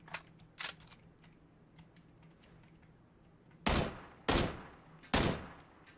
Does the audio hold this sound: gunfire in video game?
yes